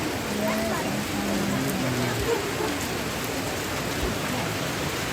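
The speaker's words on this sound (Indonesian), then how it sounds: "Hujan." Steady rain falls outdoors during the rainy season, a dense, even hiss that holds at the same level throughout. A few faint background tones sit under it, and no one speaks.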